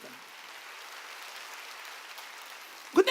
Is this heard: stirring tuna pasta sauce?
no